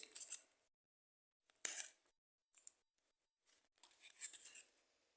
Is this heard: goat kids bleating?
no